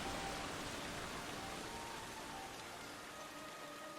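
Waterfall in the video game The Legend of Zelda: Skyward Sword, a steady dense rush of falling water, loud and continuous with no voices.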